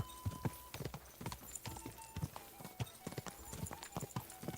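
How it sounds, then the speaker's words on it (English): Horse hooves pound steadily in the video game Kingdom Come: Deliverance 2, a fast, irregular clatter of hoofbeats at close range with a faint tone humming beneath, and no talk over it. "Horse is doing fine."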